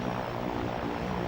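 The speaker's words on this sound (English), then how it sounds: "there's the plane, and I've got to wait for it to go around again" A propeller airplane circles overhead in the Toy Story 2 video game, its engine drone steady and loud through the whole short stretch, with no talk.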